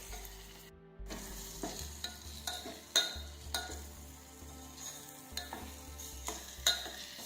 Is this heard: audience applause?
no